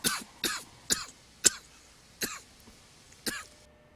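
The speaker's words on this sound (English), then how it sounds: "Sorry about that, minor coughing fit." A person has a coughing fit close to the microphone: six sharp, separate coughs spaced roughly half a second apart, with brief quiet gaps between them.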